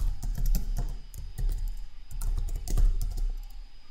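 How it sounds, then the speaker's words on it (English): Someone types a command on a computer keyboard, with close, rapid, uneven key clicks and taps arriving in short bursts over a few seconds, no talking. "I'm going to type personal.unlockAccount"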